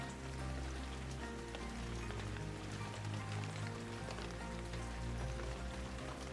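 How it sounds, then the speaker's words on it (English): Rain falls steadily in Shenmue III, a continuous dense wash of patter with a low background hum, even and unbroken throughout, with no voices. "It's raining."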